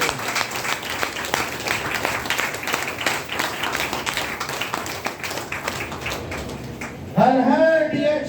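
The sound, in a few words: audience clapping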